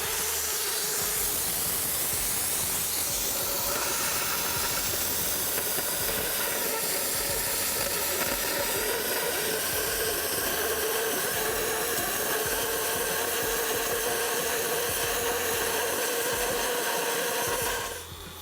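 A Multiplaz 3500 plasma cutter slices through galvanized steel with a loud, continuous hiss like escaping steam, holding steady for the whole stretch before cutting off abruptly at the end, with no talk.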